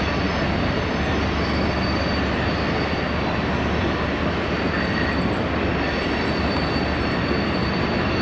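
Continuous rumbling roar of a long coal-loaded freight train rolling past in New River Gorge National Park, steady and loud with a constant clatter of wheels on rails.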